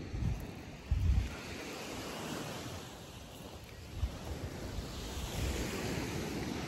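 Ocean surf rolls onto a Cancun beach in a steady, continuous wash, with a few heavier breaks and some wind buffeting the microphone. No one speaks.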